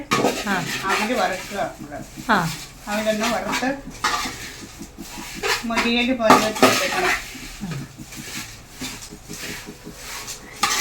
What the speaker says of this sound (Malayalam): അവൽ വറുത്ത് എടുക്കാം